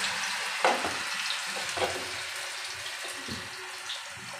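Cabbage pakoras in gram flour batter deep fry in oil with a continuous soft sizzle, broken by a few louder bursts and stirring scrapes at irregular moments.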